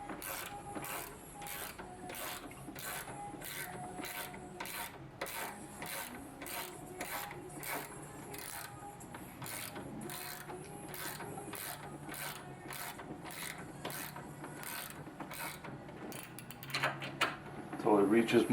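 Steady ratcheting clicks while a 350Z damper bolt is tightened with the strut held in a vise, a rapid even rhythm running close and constant for the whole stretch, ending in a louder scrape near the end.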